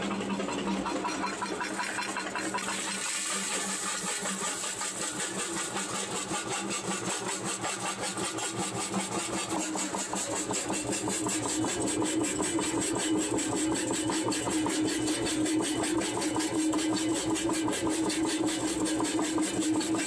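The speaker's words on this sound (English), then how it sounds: "We're going to crush it down to about a quarter inch minus through our jaw crusher" An engine-driven jaw crusher runs while breaking gold ore samples down to quarter-inch pieces. The engine drones steadily and loudly throughout, with dense rapid clattering of rock being crushed, and no voices.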